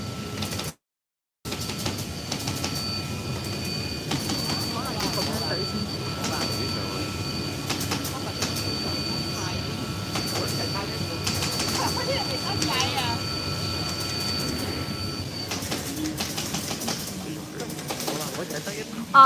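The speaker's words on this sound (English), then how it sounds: "So now they are cutting the cloth." Machine cutting furniture upholstery fabric inside a factory, with a steady mechanical whir and clatter running throughout under talk and workshop noise.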